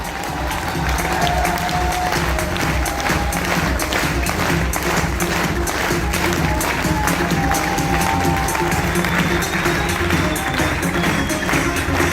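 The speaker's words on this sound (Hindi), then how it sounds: "मिस्टर जितेंद्र डागर, आपकी जोरदार तालियों के बीच में" A large audience at a grand summit in Delhi claps loudly and continuously in a dense, sustained wash of applause, with some crowd murmur and no clear speech.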